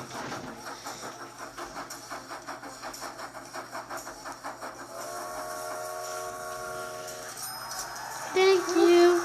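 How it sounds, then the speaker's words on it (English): A train in the Train Tiles Express mobile game: rhythmic chugging pulses, then a sustained tonal whistle and hissing steam, ending with short bright game chimes. "Oh, there's a nice train."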